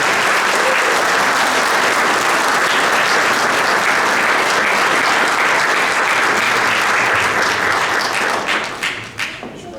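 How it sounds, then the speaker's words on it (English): A crowd at the 2023 Derby inauguration applauds the city treasurer, Maria Conlon, in a long, loud, unbroken wash of clapping that holds for several seconds and then thins out and fades at the end. "Let's give a nice round of applause to our City Treasurer,"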